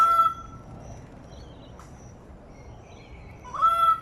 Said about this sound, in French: Je crois qu'il y a un jeu de séduction entre ces deux oiseaux.